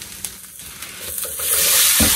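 Apples tipped into a pan of lightly browned onions, scattered stirring clatters giving way to a loud, swelling sizzle as the fruit hits the hot fat.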